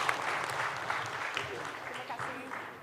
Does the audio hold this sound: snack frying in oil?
no